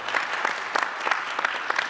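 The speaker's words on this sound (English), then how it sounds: "I would love to give him a round of applause." Indoor audience at a Parkinson's disease educational symposium applauding, a brief burst of dense, steady clapping heard at moderate distance.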